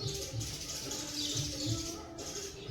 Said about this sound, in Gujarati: સાંભળી શકો છો ચકલીઓનો અવાજ કેટલો સરસ મજાનો આવી રહ્યો છે